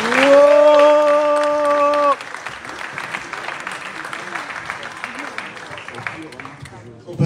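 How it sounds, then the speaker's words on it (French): A sustained tone opens, then an audience at an awards ceremony for the Lumumba Awards 2025 breaks into a steady wash of applause lasting several seconds. "Ils méritent les applaudissements."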